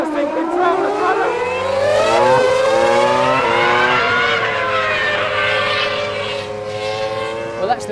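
A Formula racing car launches from the start with wheel spin, its engine screaming loud and close as the pitch climbs in stepped surges through the revs.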